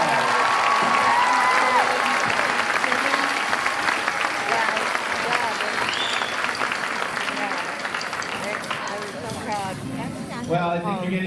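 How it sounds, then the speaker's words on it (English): A crowd at the 2019 West Milford District Arts Festival gives a pipes and drums band sustained applause that slowly tapers off, with a voice speaking over it at the end. "Give them another round of applause."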